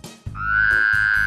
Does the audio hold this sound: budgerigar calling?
no